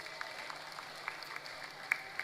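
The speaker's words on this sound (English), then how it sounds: "Can we clap for them properly," A crowd at a political party youth gathering applauds, a soft, distant patter of clapping with a few sharper claps standing out, lasting only a couple of seconds.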